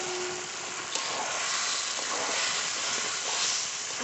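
Mutton poured into a hot pan of fried spices sizzles with a steady, close hiss, with a faint clink near the start and the frying continuing evenly throughout.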